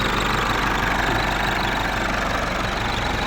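A loud four-cylinder diesel tractor engine idles close by, a continuous rough rumble with a steady low knocking pulse and no voices.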